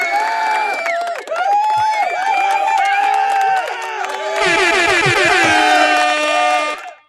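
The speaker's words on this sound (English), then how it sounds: "We got a packed crowd in here." A packed studio crowd at a combat-sports talk show cheers and shouts while a loud air horn blasts repeatedly in the second half, with voices carrying over the noise throughout.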